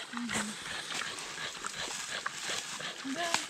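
Dogs in a dry forest give a few short yips and whimpers while someone talks throughout, with brief rustles and scattered clicks in the background.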